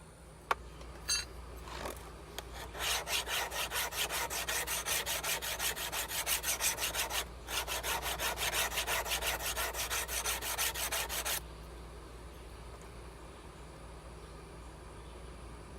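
A freshly heat-treated and tempered knife blade is drawn across a diamond sharpening stone, making rapid, even, close-up rasping strokes for about eight seconds before stopping abruptly.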